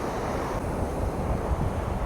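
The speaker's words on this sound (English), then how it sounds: "The waves also just really powerfully crash against the rocks and the shore." Ocean waves crash powerfully against rocks and the shore at Praia da Rocha on the Algarve coast in Portugal. A dense, continuous roar of surf mixes with gusty wind buffeting the microphone, and no one speaks.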